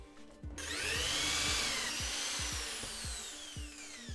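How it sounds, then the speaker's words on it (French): A power drill bores through a wooden board while making a manga advent calendar, a close, loud whine that rises and sweeps in pitch with rhythmic clunks of the bit biting through the wood. "quand on va percer, on peut percer de la planche"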